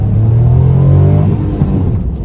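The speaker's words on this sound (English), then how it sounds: "We'll lean into it one more time on the gas." A 2022 Mitsubishi Mirage G4 ES with a manual gearbox accelerating hard, its small engine droning and rising in pitch close by, then easing off as the revs fall.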